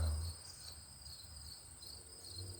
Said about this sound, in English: And the crickets, and the tree frogs,